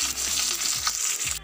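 Curry leaves and slit green chillies fry in a hot mustard-seed tempering in a kadai, giving a steady, close, loud sizzle with crackling pops and a faint stirring scrape.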